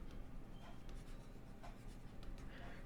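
Chalk or marker writing on a board during a financial accountancy lecture, heard as a continuous scratchy rubbing of strokes over steady room noise, with no talking.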